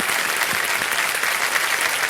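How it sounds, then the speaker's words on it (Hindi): A studio audience on a Hindi television quiz show gives steady, dense applause, a continuous wash of clapping at moderate volume with no speech over it. "तालियों के साथ इनका हम अभिनंदन करते हैं."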